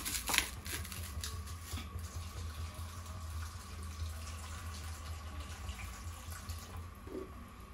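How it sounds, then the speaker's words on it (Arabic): Water poured from a tap over gelatin for a cake, a steady soft running flow throughout, fairly quiet with a small clatter at the start. "غادي نديرهم في واحد شويه ديال الماء بهذا الشكل. غادي نعمر عليهم الماء."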